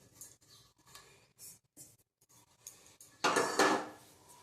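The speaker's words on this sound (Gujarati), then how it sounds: "હવે આપણે આને થાળીમાં કાઢી દેશું એક." Roasted spices for a Gujarati buttermilk masala being scraped from a pan onto a metal plate, a few soft scrapes and clinks followed by a louder rattling pour near the end, close and without talk.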